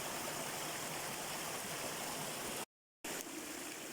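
Steady rushing of a mountain stream, broadband water flow heard close and continuous with a brief dropout near the end, no voices.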